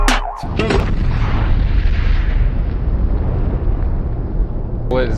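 A flintlock musket loaded with wad and ball fires at a jelly target, giving one loud, close blast whose rumbling roar and echo fill several seconds, with brief voices at the start and end.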